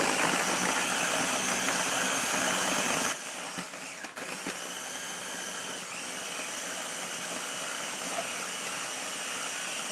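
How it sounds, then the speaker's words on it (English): A kitchen blender roars at full power with a dense, loud whir, then drops to a quieter steady hum for the remaining seconds. "I can't even get my blender together"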